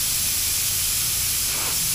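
A low-pressure spray gun applies sealer to a car, giving a steady, even hiss of compressed air and atomized material throughout, close and continuous with no talking.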